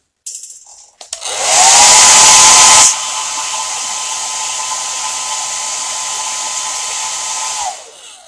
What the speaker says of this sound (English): And then really quickly hitting it with the hair dryer.